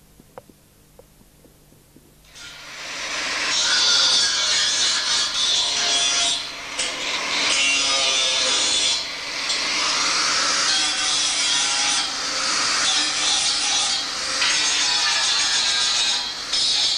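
Loud, continuous grinding on metal during a Robin Hood kit car build, starting abruptly after a brief quiet moment and holding a steady, harsh, close-up roar with small dips for the rest of the clip.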